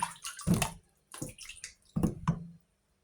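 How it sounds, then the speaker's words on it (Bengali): Sweet potatoes are washed by hand in water, giving a few brief splashing, sloshing bursts close by with short quiet gaps between them. "মিষ্টি আলুগুলোকে ভালো করে ধুয়ে"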